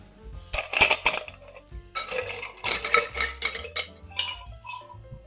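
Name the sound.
stirring a Manhattan cocktail with ice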